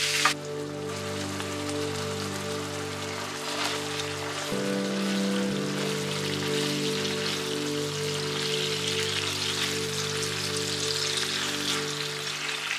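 Ground beef and pork sizzling and crackling in a pan while being broken up, a steady hiss under a faint humming background tone, with no talk.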